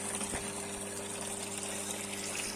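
Electric pump drawing water from a household well, a steady motor hum with rushing, gushing water, close and continuous.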